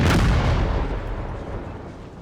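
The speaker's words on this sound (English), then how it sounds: "Our mortars are firing." Mortar fire in the battle game Empire: Total War, a single heavy boom right at the start that rolls off into a fading rumble over about two seconds.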